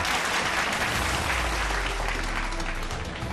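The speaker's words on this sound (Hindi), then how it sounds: "पीएम के बैठक में पहुंचते ही बीजेपी सांसदों ने खड़े होकर ताली बजाई।" BJP MPs standing and applauding as the Prime Minister arrives at a parliamentary party meeting; dense, steady clapping from a large group fills the room throughout, loud and continuous.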